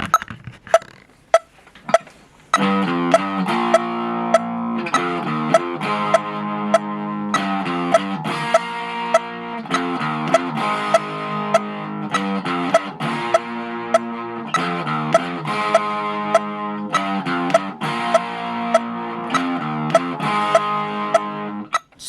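A distorted electric guitar riff played at 100 beats per minute, loud and driving with repeated chugging chords and steady accents after a few sparse opening hits, no voices.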